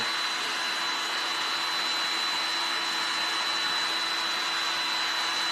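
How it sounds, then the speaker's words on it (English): Steady, continuous rush of blowing air from an electric heat gun warming resin, a broad even hiss with a faint whine, running unbroken throughout. "you heat it up with a hairdryer or a heat tool"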